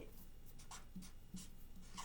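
A pencil or pen writes a fraction on paper in a few short, quiet scratching strokes, faint and close, with a voice speaking softly underneath.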